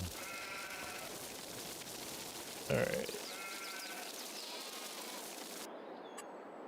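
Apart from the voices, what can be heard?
sheep bleating in Farming Simulator 22 video game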